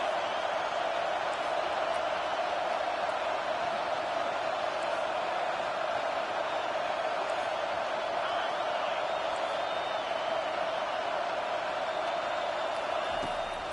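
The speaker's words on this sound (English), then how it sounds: "Here comes this home crowd as the defense tries to get off the field on 3rd down" A home stadium crowd in the College Football 25 video game roars in a steady, dense wash of cheering that holds at an even level throughout, with no voices or breaks standing out.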